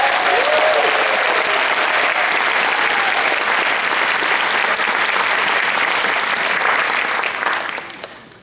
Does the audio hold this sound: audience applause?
yes